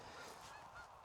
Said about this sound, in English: A couple of Canada geese down on the pond there.